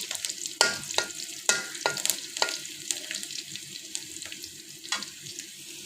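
Garlic tempering sizzles in hot oil for a papaya and masoor dal, with a bright, hissing fry punctuated by several sharp spatula scrapes, close by and without talk.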